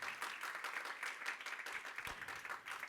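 A church congregation claps along in steady rhythmic unison, a continuous bright patter of many hands filling the room, fairly distant and moderately loud.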